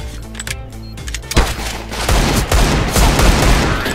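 Gunfire in Counter-Strike: Global Offensive: after a quieter opening, a dense stretch of loud, rapid shots with continuous noisy crackle runs to the end, with no talk.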